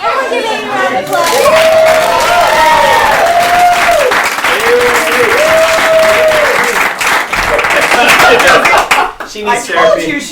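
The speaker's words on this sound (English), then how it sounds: "Everyone give Amy a round of applause" Audience at a children's magic show breaking into loud sustained applause and cheering, many hands clapping close by while a voice and excited chatter ring out over it before it dies away.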